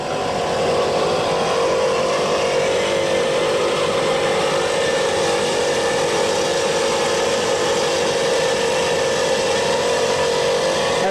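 Steady, loud engine roar from a racing powerboat at the 1983 APBA race in Detroit, a sustained drone with no break throughout, heard alone without voices.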